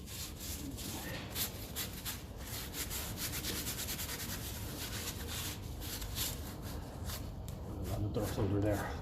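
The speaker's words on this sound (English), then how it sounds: "We'll give that a rub with a wire brush there just to clean it off a bit." A wire brush scrubbing dirt and grime off Massey Ferguson 35 tractor brake parts, producing quiet, rapid back-and-forth rasping strokes up close that continue steadily throughout.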